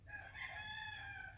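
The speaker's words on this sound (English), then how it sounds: "Isn't that a pretty rooster?" A white claret gamefowl rooster crows once, a clear sustained call close by over a low background rumble.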